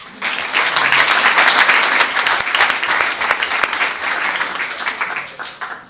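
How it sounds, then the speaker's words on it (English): At a Los Gatos town council meeting, the room gives a short, lively round of applause that swells quickly and fades out after about five seconds. "Let's give a round of applause."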